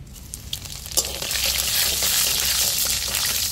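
Cumin seeds hit hot mustard oil in a heated wok, a crackling sizzle that jumps up after a second and then holds steady, bright and close, with no voices.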